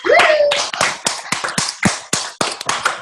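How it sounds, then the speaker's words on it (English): Applause on a conference call: a burst of clapping from several hands, a quick irregular run of sharp claps that carries on for a few seconds, loud and close, with a brief whistle at the start. "Let's give her a round of applause for that."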